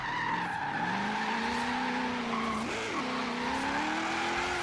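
A car drifting through a street roundabout in Forza Horizon 3, played on a Logitech G920 wheel, its engine holding a strained high note while the tires squeal continuously, with a brief pitch dip midway, loud and close.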